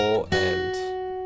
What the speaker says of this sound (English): And that third bar sounds like this.